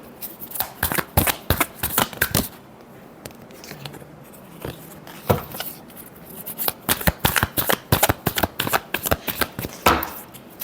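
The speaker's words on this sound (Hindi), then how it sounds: "Last shuffle." A deck of tarot cards is shuffled by hand in close, crisp riffles and rapid flutters, coming in irregular bursts with a quiet pause in the middle.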